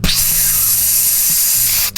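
A spray can hisses in one steady, loud burst lasting nearly two seconds, with a low hum underneath, then cuts off abruptly.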